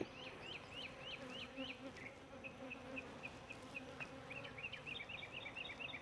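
Honey bees buzz continuously around an opened hive, a dense droning hum with individual insects' whines rising and fading in the foreground.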